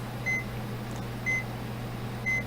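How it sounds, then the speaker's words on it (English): A Kill A Watt power meter overloaded past its 15-amp rating beeps three times at about one-second intervals, short high electronic beeps over a steady low hum of running equipment. "this kilowatt's going to start beeping at you because it's only rated at about 15 amps"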